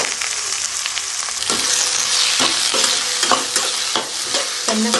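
Chopped vegetables, including tomato, frying in oil for rava upma while a spoon stirs and scrapes the pan, a loud steady sizzle broken by repeated clacking strokes.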